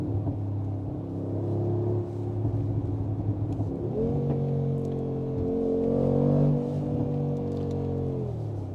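A Brabus G700 G-Class, a 700-horsepower tuned G63 AMG, revs and accelerates on a city street, its deep engine drone climbing in pitch with a steady, loud rumble throughout.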